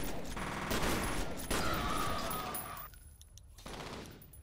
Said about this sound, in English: I heard someone else shoot.